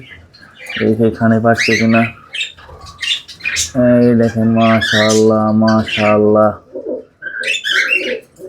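Pet cockatiels squawk in short harsh bursts, loud and close, while someone speaks over and between the calls.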